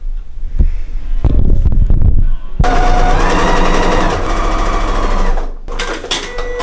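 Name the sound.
sewing machine stitching an apron hem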